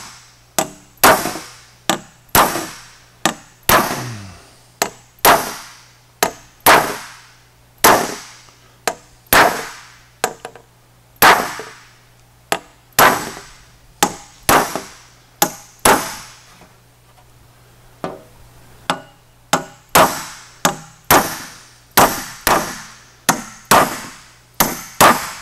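Metal being hammered to shape a Porsche 550 dash panel: a long series of loud, sharp ringing blows in an uneven rhythm, with short pauses between bursts and no talking.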